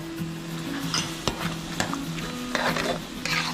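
Pork panang curry with seasoning powder, sugar and fish sauce being stirred in a pan: a steady sizzle with a low hum beneath, punctuated by several sharp utensil scrapes and knocks.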